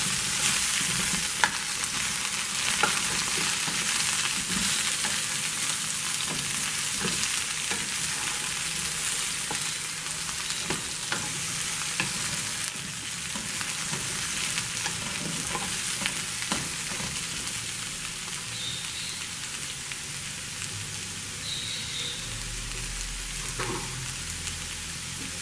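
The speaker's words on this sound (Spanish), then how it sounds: "En otro sartén vamos a agregar 3 cucharadas de mantequilla" Three tablespoons of butter melt and sizzle in a frying pan while mushrooms cook in another, a steady close frying hiss with light scattered crackles, continuous and without voices.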